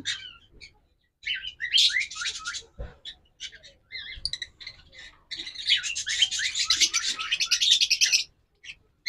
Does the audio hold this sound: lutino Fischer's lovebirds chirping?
yes